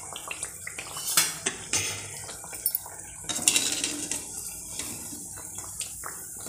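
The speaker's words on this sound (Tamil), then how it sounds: "இப்போது இதை அப்படியே திருப்பி விடலாம், நல்லா வேகட்டும்." Amaranth greens vada being flipped in a frying pan, with a metal spatula clinking and scraping against the pan over a soft background sizzle, the sharp knocks coming irregularly and close.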